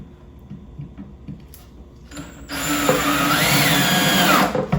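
Cordless power drill driving screws into a wooden swarm trap: a few short whirs first, then one loud, steady run of several seconds whose pitch rises as the screw bites in, close and with no voices.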